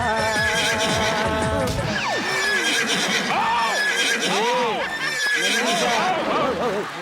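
A horse neighs repeatedly in loud, wavering whinnies that rise and fall, with hoof clip-clop beneath and voices talking alongside on a comedy show set.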